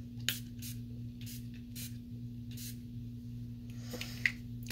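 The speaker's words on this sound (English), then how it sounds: "Long lasting setting spray." NYX Matte Finish long-lasting setting spray mists out in several short, soft hissing bursts, spaced irregularly and close up, over a steady low electrical hum.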